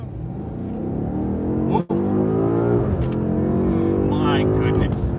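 A BMW M8 Gran Coupe Competition in M Sport mode accelerates hard, the engine note climbing steadily in pitch through the gears, loud and close from inside the cabin. There is a brief gap as the car shifts, and a short exclamation is heard over it.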